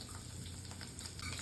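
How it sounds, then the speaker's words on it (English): Garlic sizzles in a pan over turned-down heat. The frying makes a soft, steady, crackling hiss that stays faint and continuous for about a second and a half, with no talking. "As the garlic is toasting,"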